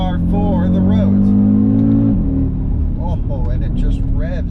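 An Audi RS Q3 engine revs hard and keeps climbing, a loud, close, sustained roar that rises in pitch, drops briefly and then builds again, with a voice talking over it.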